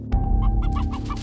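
Chickens on a farm in Cuenca, Batangas cluck in a short run of repeated calls, close and clear over a steady low background hum, with no voices.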